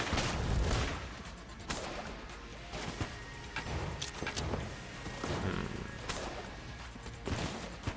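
Winchester rifle shots in the top-down shooter Enter the Gungeon sound as sharp, separate cracks and thumps spaced across the stretch, mixed with other in-game impacts and effects, with no voices.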